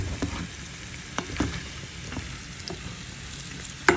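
Potatoes fry in a pan on low heat, a soft steady sizzle broken by occasional scrapes and taps of stirring, close and quiet with no talking.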